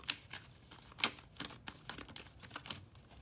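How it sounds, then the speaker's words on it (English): Tarot cards are shuffled by hand close up in a quiet room, giving soft, irregular papery snaps and flutters, with a couple of sharper riffle bursts. "I'm going to shuffle one more time"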